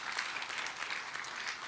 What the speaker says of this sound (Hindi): जोरदार तालियां हो जाए इनके लिए भी।